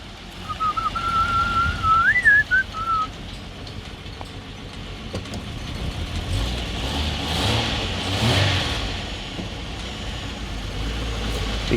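A big V6 car engine revs up and then settles, a loud nearby rising roar with a whining tone at first, followed by a rumbling swell and a steady running drone, with no talk.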